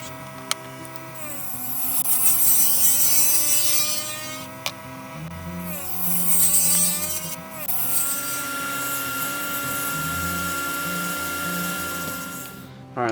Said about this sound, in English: So now we're going to go ahead and we're going to start cutting on the inside.